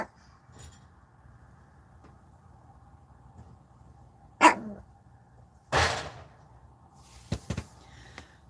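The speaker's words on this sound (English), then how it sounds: "Oh, the dogs are going to be barking at the..." Dogs bark in a few short, sharp bursts at moderate distance, separated by quiet stretches of low background hum.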